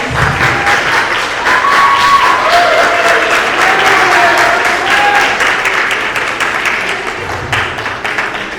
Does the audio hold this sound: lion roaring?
no